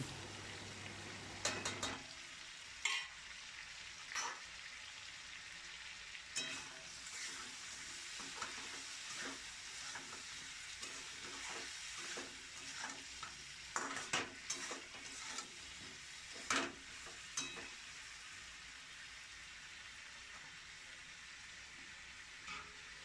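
Chicken fries in a pan with chili powder, turmeric and salt for a home-style Bengali chicken and potato curry, giving a quiet, continuous sizzle broken by frequent scraping and clinking stirs.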